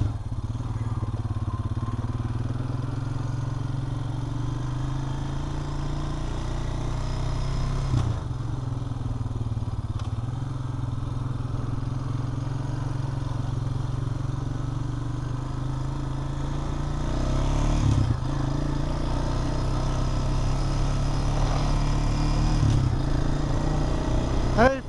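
A Honda Rancher ATV engine drones steadily and close while being ridden, a low throbbing rumble that holds a constant pitch and swells slightly louder in the last few seconds.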